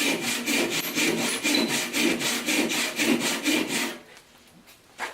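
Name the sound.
handsaw cutting 1-inch thick oak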